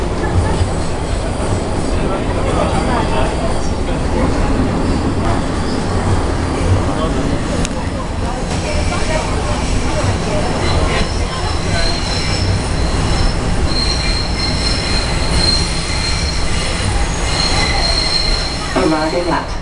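Toronto subway train pulling into King Station, its steel wheels squealing loudly over a constant rumble of the cars, with voices talking faintly beneath the noise.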